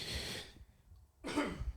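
Two harsh coughs from a person with sore, injured ribs, close and fairly quiet, separated by a brief pause of near silence.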